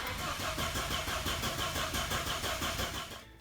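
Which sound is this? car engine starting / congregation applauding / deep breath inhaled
car engine starting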